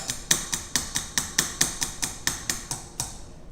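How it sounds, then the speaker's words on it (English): A metal strainer of tomato soup tapped sharply about a dozen times at a steady, quick rhythm, each knock bright and close with a short ring. "or do a little tappy tap"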